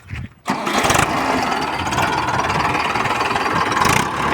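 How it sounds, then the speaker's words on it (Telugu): A tractor engine cranks and catches after a brief pause, then settles into a loud, steady, rumbling idle close by. "ఒకసారి స్టార్ట్ చేయి ఇంజన్"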